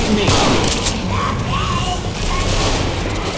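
Dense, continuous gunfire from Left 4 Dead 2 rattles through the whole stretch with thudding booms underneath, loud and close, with no clear pauses.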